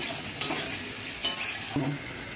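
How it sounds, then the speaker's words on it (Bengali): Potatoes sizzle steadily in hot oil in a pan while a utensil stirs them, with a few distinct scraping clinks standing out over the continuous frying hiss. "নাড়াচাড়া হলে আলুটা একটু তেলের সঙ্গে মিশে"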